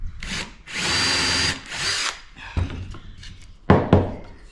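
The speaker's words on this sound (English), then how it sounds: "now I've got that line, I can drill" A power drill whirs in two sustained bursts, drilling a pilot hole for a screw while building drawers for a camper van, followed by sharp knocks and thuds nearby.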